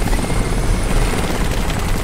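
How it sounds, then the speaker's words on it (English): Helicopter in the video game Crysis, a loud, continuous rotor and engine roar filling the moment with a steady low thrum, close and unbroken. "Yep, of course it's a helicopter."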